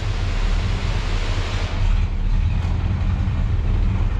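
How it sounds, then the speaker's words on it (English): Exhaust of a 1984 Chevrolet one-ton truck with a 454 big block engine, idling as a steady deep low rumble that holds continuously and loud up close, with no voices heard. "What do you think of that exhaust?"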